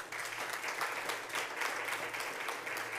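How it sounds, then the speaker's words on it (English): Steady applause from an audience at a city government briefing event marking National Hispanic Heritage Month, dense and continuous clapping holding at an even level throughout with no voices on top. "Another round of applause."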